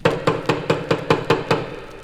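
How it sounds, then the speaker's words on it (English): Hammer blows drive a nail into a loose wooden stair board, eight sharp evenly spaced knocks about a quarter second apart, close and loud with no talking. "hammer a nail into the loose board on the stairs"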